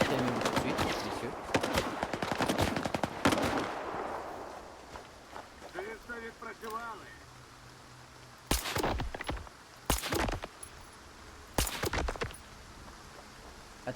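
Gunfire in the video game S.T.A.L.K.E.R. 2 comes as a few sharp, loud shots in short bursts and single cracks, with a voice talking over the earlier part of the clip.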